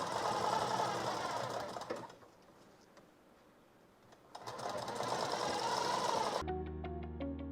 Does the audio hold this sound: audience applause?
no